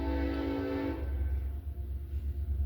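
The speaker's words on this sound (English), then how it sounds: "there's a train for confirmation" A train passing close by, with a sustained horn blast fading after about a second into a steady low rumble of rolling cars that carries on to the end.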